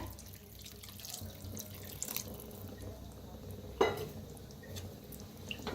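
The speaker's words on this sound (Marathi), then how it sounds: "गरम पाणी ओतूया म्हणजे भाज्या लगेच शिजतात आपल्या" Hot water is poured steadily into a pan of mixed vegetables, with a brief louder splash midway and faint clinks around it.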